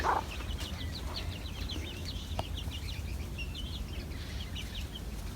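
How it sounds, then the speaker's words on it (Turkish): A hen clucking softly and repeatedly with quick peeping chicks nearby as she looks for grapes, over a steady low background hum. "Şimdi tavuk yavrularını almış."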